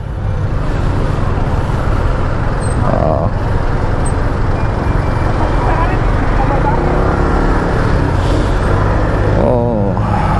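Dense road traffic rumbles continuously from inside or beside a vehicle on a congested road, a loud steady engine drone with passing vehicle swells and no pauses.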